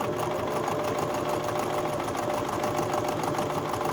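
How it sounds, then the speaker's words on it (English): A sewing machine runs a fast straight stitch on embroidery, a close, even mechanical whirr with rapid regular needle strokes throughout. "I've slightly sped up my stitching on this straight stitch."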